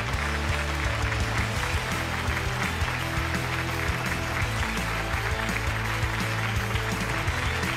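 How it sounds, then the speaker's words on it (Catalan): A large studio audience at a talent show claps loudly for the first contestant, a dense, continuous roar of applause that carries steadily from start to finish without pause. "Gravem amb un fortíssim aplaudiment al primer concursant d'aquesta edició"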